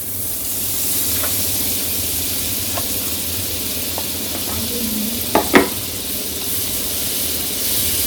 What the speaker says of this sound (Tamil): இப்போ நம்ம என்ன பண்ண போகிறோம்னா பட்டர் போடுறோம் இதில்